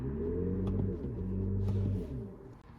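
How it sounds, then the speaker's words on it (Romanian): The Silver Waves drive sound played by a Mercedes EQS electric car, a steady low synthetic hum with layered sustained tones that swells and shifts, holding for over two seconds before fading slightly. "Dar dacă vrei Silver Waves,"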